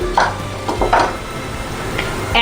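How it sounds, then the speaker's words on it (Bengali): Palm fritters (taler bora) frying in hot oil in batches, a soft bubbling sizzle with a few utensil knocks and scrapes, and no voices. "এটা আমি এক ব্যাচে ব্যাচেই ভাজবো কারণ একসাথে সব দিয়ে দিলে ভাজাটা ভালো হবে না"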